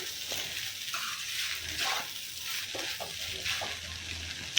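A spatula scrapes and stirs mint rice in a hot pan, with steady sizzling and intermittent clinks and scraping strokes, close up and fairly quiet.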